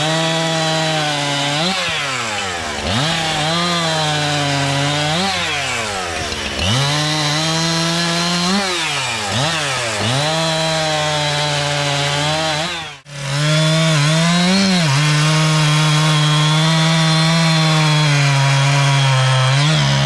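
A 71cc chainsaw cuts through old wood up close, its engine snarling loudly and dipping in pitch repeatedly as the chain bites, then briefly cutting out before revving again at a steady high whine.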